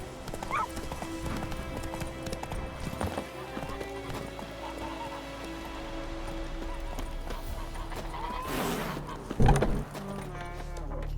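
Roach, the horse in The Witcher 3, gallops in a steady clip-clop of hooves under game music, with a whinny and a louder burst of hoofbeats near the end.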